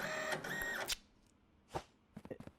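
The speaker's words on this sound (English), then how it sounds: "Stop clicking the printer." A printer in the Parcel Simulator video game runs in quick mechanical bursts, a buzzing whir ending in a clack, then a pause and a cluster of short ticking clicks.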